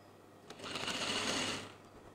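A sewing machine stitching children's clothing, a soft, faint whirring run that swells and fades over about a second.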